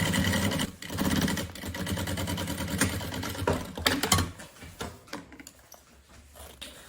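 A sewing machine runs fast and loud, stitching a lining all the way around synthetic fabric for a bunny backpack, then slows into scattered clicks and fades to quiet.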